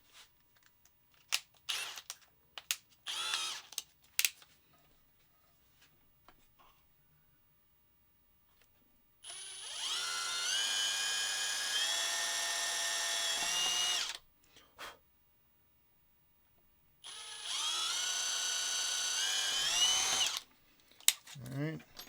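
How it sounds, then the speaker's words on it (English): Power drill boring a small pilot hole through a panel for a 3D-printed RC trophy truck rebuild, two sustained close whirring bursts of several seconds each, preceded by light handling clicks and taps. "So let's drill a little pilot hole here."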